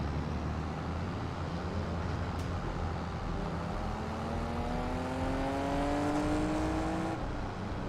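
Loud vehicle engine and exhaust in Farming Simulator 25, a steady droning rumble with rising harmonic tones as it revs up and pulls away, continuous and close throughout.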